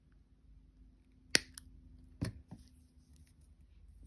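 Wire cutters snip through jewelry wire for a wire-wrapped connector link, three sharp, quiet clicks spaced about a second apart in an otherwise still room.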